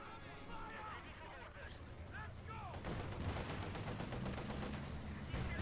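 Heavy gunfire from a T-70 tank in the real-time strategy game Company of Heroes 2, with rapid bursts of shots and battlefield fire growing denser partway through, all under continuous commentary from a voice talking over the match.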